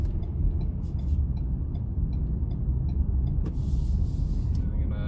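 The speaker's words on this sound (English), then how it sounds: "I'm going to give it a little bit of gas and see how quickly we can get up to highway speed here" A 2020 Ford Edge SEL picks up speed toward highway pace, its engine and road noise a steady low rumble heard from inside the cabin, with a brief clatter near the end.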